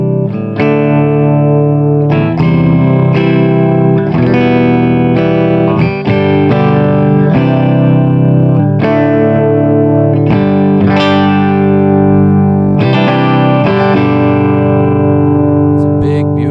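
Les Paul electric guitar played clean through a Granville AMD800 tube amplifier with Mercury Magnetics transformers, volumes low on both pickups, ringing chords and single notes strummed in a steady, full, loud stream with no talking.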